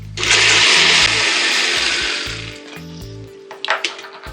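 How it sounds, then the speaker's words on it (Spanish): A blender grinding chilies whirs loudly for a couple of seconds, then its motor winds down and stops, leaving low intermittent rumbles and a few clinks. "Y nuevamente a la licuadora, dándole suficiente tiempo"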